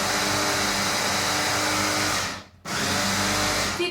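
A blender grinds fruit with sugar for a mini cheesecake filling, a loud steady motor whir that cuts out briefly near the end before starting up again, with no talking.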